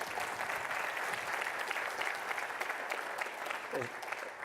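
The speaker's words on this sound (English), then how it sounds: "I'd like to give you a round of applause" Sustained applause from an audience at a meeting on the hydrogen economy, a dense steady wash of many hands clapping throughout, with some talk faintly mixed in underneath.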